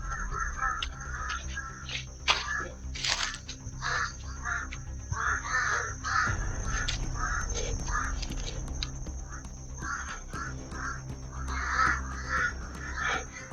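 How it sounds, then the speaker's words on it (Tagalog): Crows cawing repeatedly around a player in a video game, a rapid string of harsh calls close by, with whispery talk running underneath. "Sinusundan ako ng mga ibon."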